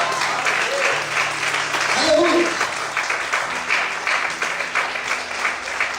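A church congregation applauds during a sermon, a broad steady wash of clapping running throughout while a voice calls out over it.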